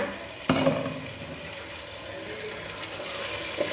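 Soaked tamarind squeezed by hand in a bowl of water to draw out its juice: soft, close sloshing and squelching, with a small splash near the start.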